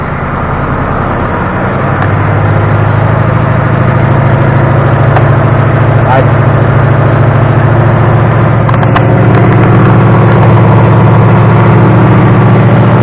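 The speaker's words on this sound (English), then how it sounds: "we're going to do a quick little RPM right now." A brand-new 2019 Ford Mustang GT V8 runs loud and close with a deep, steady engine drone that rises slightly in pitch after about two seconds, as if held at raised RPM, with no talk.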